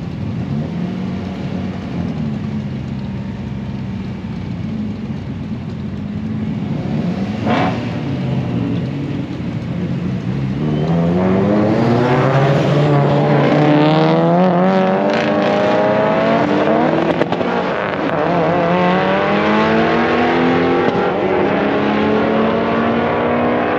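An old pickup truck with stock hubcaps races around a track, its engine rising and falling through gears, loud and continuous as it revs hard and other cars roar nearby.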